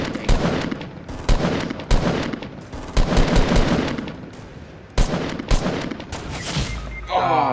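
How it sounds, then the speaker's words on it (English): Gunfire in a Fortnite battle royale match, including a sniper rifle, rings out as a run of sharp, loud shots in uneven bursts, some spaced apart and some clustered, with a brief whooshing effect at the end. "she sniped you with a fucking sniper"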